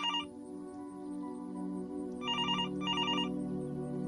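A telephone rings in an empty house, sounding three trilling bursts: one short ring at the start, then a pause, then two rings close together, all over a low steady musical drone.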